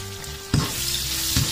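Onions sauté in a pan while cooking pancit canton, giving a steady, close sizzle and frying crackle with a couple of brief stirring bursts.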